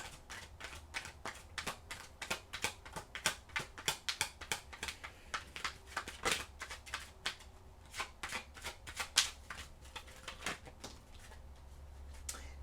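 Oracle cards being shuffled and drawn, a long run of crisp, close riffling and flicking snaps in quick uneven bursts, with no talk.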